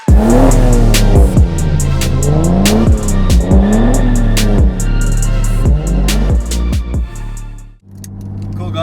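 An RB25-swapped Nissan 200SX accelerating hard on a highway, heard from inside as the engine climbs through the revs in loud, repeated pulls, each rising pitch cut by a gear change.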